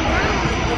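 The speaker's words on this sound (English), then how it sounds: "That plane is about to take off." An airplane about to take off heard at a distance as a steady broadband engine roar, with people talking over it.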